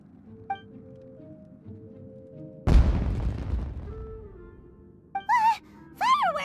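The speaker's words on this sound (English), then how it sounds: "Was that an explosion? It sounded like fireworks." A single firework blast goes off in Genshin Impact, a sharp loud boom that decays into a crackling rumble. Quiet game sounds come before it, and short voiced sounds follow.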